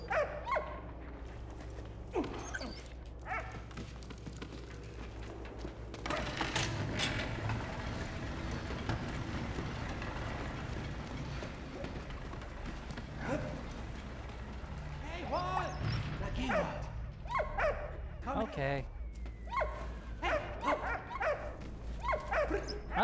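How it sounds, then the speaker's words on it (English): Dog barking and whimpering in the World War I video game Valiant Hearts, repeated yips and barks over a steady game soundtrack and mechanical background, with someone talking throughout. "Stop barking at me."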